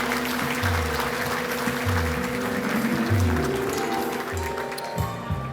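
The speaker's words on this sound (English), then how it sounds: "Let's give them a round of applause." Audience at an annual civic mayors' dinner applauding, dense clapping filling the room at a steady, fairly loud level before thinning out near the end.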